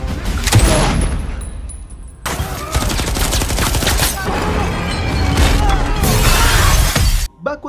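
Gunfight in an action film about a special forces mission with a sniper, with dense, continuous bursts of gunfire and crashing impacts over a loud soundtrack, a brief break near the start and a sudden cut at the end.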